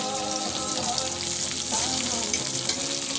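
Onion frying in a pan after paneer, a steady dense sizzle with soft stirring, loud and close, with a faint tonal hum beneath.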